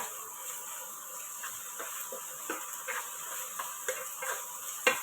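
Chopped snake gourd for thoran is stirred in a pan, giving soft, irregular scraping ticks over a faint sizzle. The stirring sound is quiet and close.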